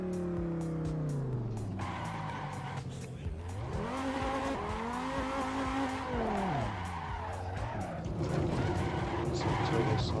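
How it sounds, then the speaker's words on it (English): Nissan R35 GT-R with a custom VR38DETT engine roars through a racing video game, its pitch sweeping up and down through gear changes, with tire squeal and skids layered over the steady, loud engine drone. "Some turbo sounds"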